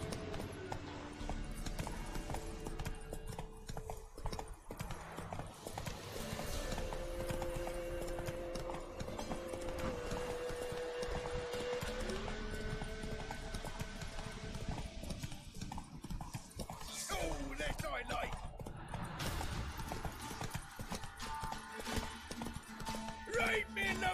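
A horse gallops in The Witcher 3: Wild Hunt, its hooves pounding in a steady rapid clip-clop beneath game music and a speaking voice, with a brief whinny in between.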